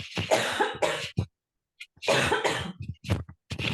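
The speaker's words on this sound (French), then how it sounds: "Attends, c'est le moment où je tousse un coup." A person coughs several times up close, in two harsh bursts separated by a brief silence, then a couple of lighter coughs at the end.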